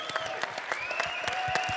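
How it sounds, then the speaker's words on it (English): A crowd at the 2015 World Barista Championship in Seattle applauds steadily, dense clapping filling the room at close range with a few tonal voices rising faintly through it. "One big round of applause."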